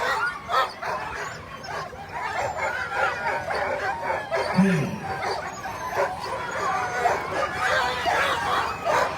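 Sled dogs at the start line of the Fur Rondy Open Class World Championship sled dog race on 4th Avenue, barking, yipping and whining excitedly in a steady chorus beneath a live announcer and crowd chatter.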